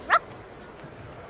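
A small cartoon puppy gives one short, high yip near the start at a sporting game, then only quiet background remains.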